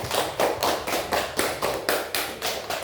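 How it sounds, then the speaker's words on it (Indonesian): A classroom group claps together in a steady, evenly spaced rhythm, each clap crisp and close, about a dozen beats in a row with no talking. "beri tepuk tangan untuk produksi"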